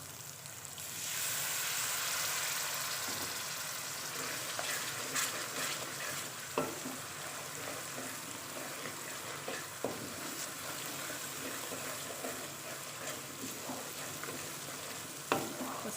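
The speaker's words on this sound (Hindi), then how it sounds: "मसाले को अच्छी तरह भून लेना है।" Red chili powder, coriander powder, turmeric and salt sizzle steadily as they fry in a pan, with occasional scraping stirs and clinks of a spoon, close and continuous with no talking.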